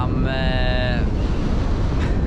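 Gale-force wind buffets the microphone high on the Crinkle Crags mountain, a continuous loud roar with a brief whining tone early on, close and unbroken.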